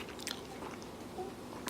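A toddler eating spicy food makes soft, wet chewing and crunching sounds that continue at close range over a low, steady room background.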